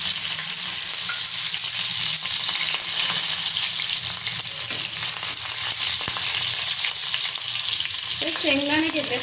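Green chilies fry in hot oil for a fasting-day recipe, making a loud, continuous sizzle, with frequent scrapes and clinks of stirring throughout. A short vocal sound rises near the end.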